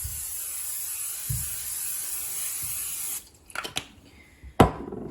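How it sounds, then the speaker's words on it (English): Canola oil cooking spray hissing from a can onto a pan, a steady spray for about three seconds, then a few short bursts and clatters close up. "We're going to do some canola spray."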